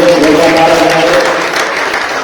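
Crowd applause welcoming Madam Premlata at a women's gathering, a short burst of dense clapping from many hands, close and loud, with a voice briefly sounding over the start.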